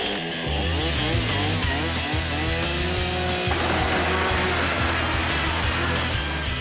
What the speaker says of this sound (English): If Jamie can start the chainsaw.